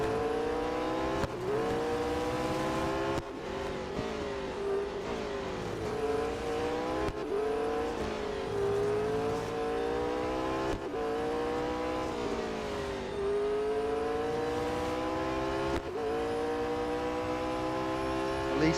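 Race car engines in the Real Racing 3 video game rev loudly and continuously, climbing through gears with repeated drops in pitch at each shift, with no pause in the engine noise.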